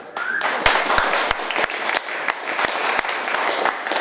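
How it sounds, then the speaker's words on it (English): A steady round of applause from an audience at a cryptocurrency community talk with an SEC commissioner, dense clapping with a few sharp, close claps standing out, and no talk over it. "So first off, I guess a big round of applause"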